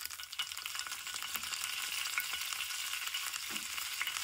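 Cumin, mustard seeds and curry leaves crackling in hot oil in a pan for tempering a gosavli chutney, a steady bright sizzle with small pops, close and fairly quiet.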